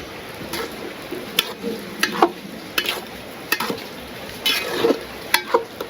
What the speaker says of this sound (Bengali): বিরিয়ানি মশলাটা দিয়ে দিলাম, নাড়াচাড়া দিয়ে এখন খালি